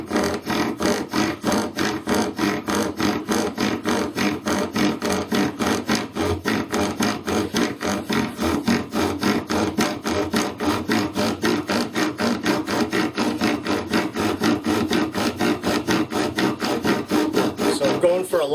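A wooden spindle turning off-axis on a lathe, vibrating and rubbing as it heats: a rapid, evenly pulsing rubbing rattle that holds steady and close throughout.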